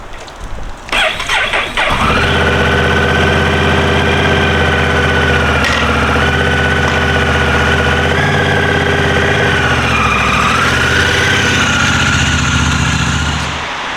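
Honda Rebel 1100 motorcycle engine cranking and catching after the ignition is switched on, then settling into a steady, loud, close idle with a slight rise and dip in revs, no talking.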